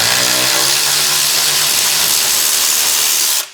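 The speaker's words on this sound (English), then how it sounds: "then I can use an electric ratchet to spin them out" An electric ratchet spins out the wheel hub bolts on a Chrysler 200 front passenger hub, a steady, loud, close whirring buzz with a rough gritty edge that runs continuously before cutting off abruptly at the end.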